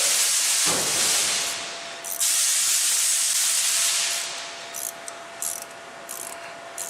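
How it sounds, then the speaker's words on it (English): A ratchet works an 8mm bolt on the engine cover of a 2011 Ford Edge with the 3.5 non-EcoBoost engine, heard as quick close mechanical clicking bursts amid a hissing background. "So 8mm, we're going to loosen that up"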